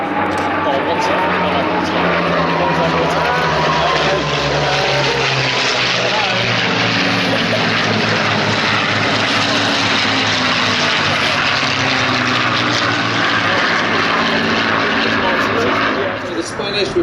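Spanish-built Messerschmitt-type fighter fitted with a Merlin engine flying at the Sywell Airshow, its propeller engine droning loud and steady as it passes, with a crowd and commentary audible underneath.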